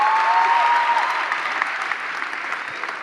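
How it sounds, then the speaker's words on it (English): Audience at a youth conference session clapping in steady, dense applause that stays loud throughout, with faint voices and a brief whistle-like tone early on. "Let's clap hands for the ladies."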